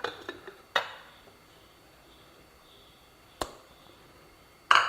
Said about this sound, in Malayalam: നമ്മൾ തേങ്ങ ജാറിലേക്ക് ഇടുകയാണ്.